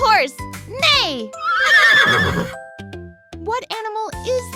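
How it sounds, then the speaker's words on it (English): A horse whinnies loudly at the centre of a farm-animal guessing quiz for kids, between bursts of cheerful child-directed speech, with a short music jingle around it. "It's a horse! Neigh!"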